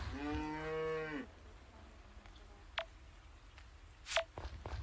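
A cartoonish cow moo sounds once, loud and drawn out, followed by a few short electronic blips and clicks from the farming game Story of Seasons: Friends of Mineral Town.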